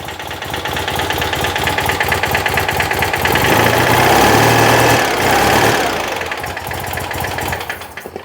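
Citroën 2CV engine running with a persistent tappy, rapid ticking over its close, steady idle, swelling briefly in the middle before easing back down.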